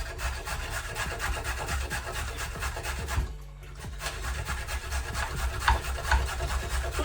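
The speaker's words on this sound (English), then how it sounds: "grate it up. You don't need a lot of carrot." A small carrot grated by hand, a continuous close rasping scrape in repeated strokes with a brief pause midway, then steady grating resumes.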